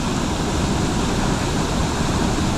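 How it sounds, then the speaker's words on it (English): A strong waterfall at Valley Falls State Park roars in a dense, unbroken broadband rush, loud and steady with no voices. "really strong waterfall over there"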